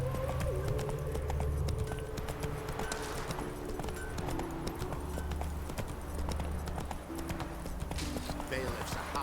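Steady clip-clop of horse hooves from riding at a walk in the video game The Witcher 3, a continuous mid-level rhythm with faint game ambience and background voices underneath.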